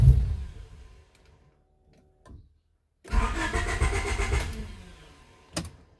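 A 1992 Honda EG with an ECU fault cranks with a whirring starter, pauses, then cranks again in a longer sputtering burst that fails to catch and dies away, with no speech.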